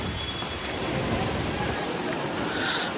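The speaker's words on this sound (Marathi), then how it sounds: "पाऊस तर काय थांबायचं नावच नाही घेत." Heavy monsoon rain pours down in Vasai-Virar, a dense, loud, continuous roar of drops on surfaces and standing water, steady and close throughout.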